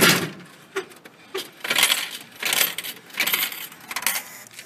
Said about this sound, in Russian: Тут нам выпадает монеточки.